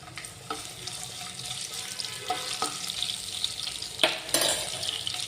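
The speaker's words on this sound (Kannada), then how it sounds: "ನಾನಿಲ್ಲಿ ಫಸ್ಟು ಶುಂಠಿ ಬೆಳ್ಳುಳ್ಳಿನ ಜಜ್ಜಿಟ್ಕೊಂಡಿದ್ದಿಲ್ಲ ಅದನ್ನ ಫ್ರೈ ಮಾಡ್ತೇನೆ ಎಣ್ಣೆಯಲ್ಲಿ" Crushed ginger and garlic hit hot oil in a pan for a chicken liver fry, giving a steady, close sizzling hiss throughout, with a few sharp clinks and stirring knocks.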